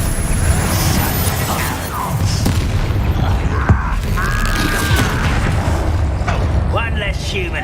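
A Confringo blasting curse explodes in the Hogwarts Legacy video game, a deep boom landing amid steady game sound, with character voices talking around it.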